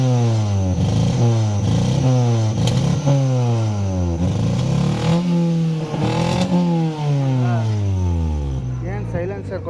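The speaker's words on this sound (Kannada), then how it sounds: "ನಿಮಗೆ ಸೌಂಡ್ ತೋರಿಸ್ತೀನಿ" A car fitted with a faulty replacement silencer revs repeatedly, its engine note rising and falling in several strong sweeps with rattly, airy exhaust, while someone talks over it.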